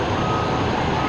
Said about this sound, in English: Here comes a tow truck to take away, haul away his semi, I guess.